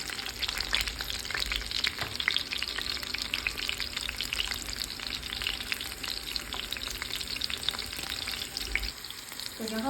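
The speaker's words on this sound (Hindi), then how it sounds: "मिर्चें और लहसुन जो है ना वो अच्छे से हो रहे हैं, सौते कर रहे हैं इसको हम" Green chillies and frozen garlic sauté in hot oil for a dhaba-style chana dal tadka, giving a steady, close crackling sizzle with occasional stirring scrapes throughout, no voices.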